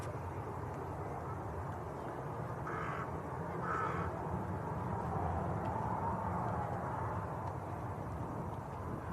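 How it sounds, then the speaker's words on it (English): A crow perched in a tree behind the onlookers caws twice in quick succession, mid-distance, over constant loud wind noise near a busy airport. "It was a noisy crow, just sat looking at us in the tree behind us."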